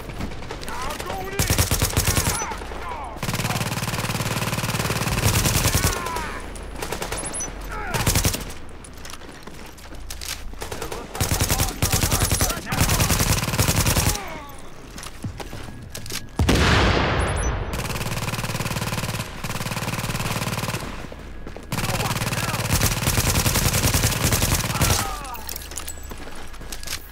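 Gunfire in the video game The Division, with Times Square as the setting, crackles in repeated long, loud automatic bursts across the whole stretch, broken by short pauses, with in-game voice lines in between.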